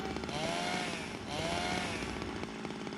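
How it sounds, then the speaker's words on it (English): A chainsaw in the video game Zero Escape: Zero Time Dilemma revs continuously and loudly, its whining pitch rising and falling in two surges over a constant buzzing drone, with no voices. "And now, you're going totally nuts with that chainsaw."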